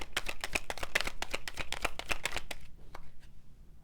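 A deck of tarot cards is shuffled close by in a quiet room, a rapid run of crisp riffling flicks that stops abruptly and leaves a few soft taps.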